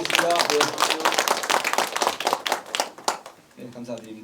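An audience claps at a district council policy forum in Incheon as a guest is introduced, steady hand claps running under a host's speech and then fading out.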